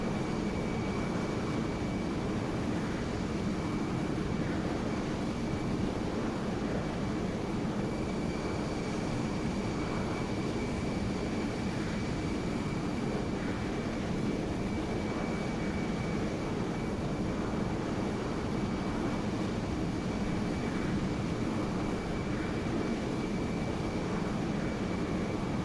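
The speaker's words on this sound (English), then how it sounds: "We're gonna do a quick little flyby." An F-14 Tomcat flies by in Microsoft Flight Simulator 2020, heard as a steady, unbroken jet roar with a faint high whine, even in loudness from start to finish.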